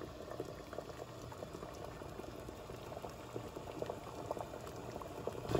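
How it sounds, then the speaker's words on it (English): Water bubbling in a double boiler as oils melt down for a homemade lip liner: a steady, quiet simmer with small pops throughout. "I'm going to put this in the double boiler and melt everything down."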